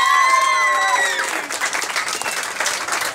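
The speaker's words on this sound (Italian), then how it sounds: "Un applauso gigantesco ai festeggiati." An audience in a Neapolitan venue bursts into sustained applause for people being celebrated, dense clapping that starts as a voice fades out and continues on its own.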